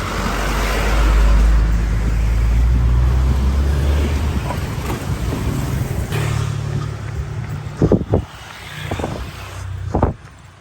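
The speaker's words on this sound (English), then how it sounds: "What's this lorry going to be doing? Is he going to let me pass? He has." A lorry rumbles past on a road during an early-morning run, a heavy low engine drone swelling loud up close and then fading, followed by a few sharp knocks.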